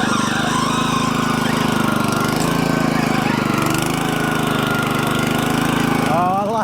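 A topdresser machine's engine runs hard with its conveyor belt and spinning paddles slinging top dressing onto a lawn, a loud, steady, rumbling drone with a mechanical chatter, close up and continuous, with a brief squeal near the end.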